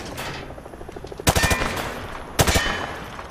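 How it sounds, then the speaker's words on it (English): A rifle fired from the hip at targets in Modern Warfare 2 Remastered lets off two quick, loud bursts of several shots each, separated by about a second of quiet room tone. "He sprayed bullets all over the damn place"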